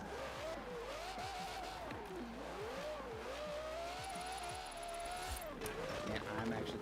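A race car drifts in the Forza video game. Its engine wails and shifts pitch steadily through repeated revs, with a faint tire screech near the end. Someone speaks casually over the game sound.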